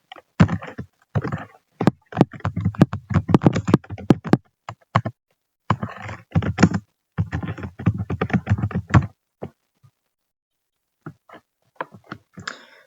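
Keys on a computer keyboard are typed in close, irregular bursts of sharp clicks while a cashier program's data flow diagram is built. The bursts are separated by short pauses, with a few scattered clicks near the end and no talking.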